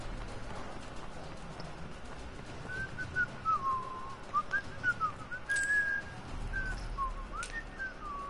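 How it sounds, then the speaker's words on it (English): A person whistles a wandering tune in short bursts against steady background noise and distant rumble, moderately loud and gaining strength toward the end, with no talk. "I'm just whistling"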